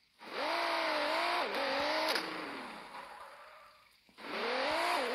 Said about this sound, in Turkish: Bak şöyle gaza basayım mesela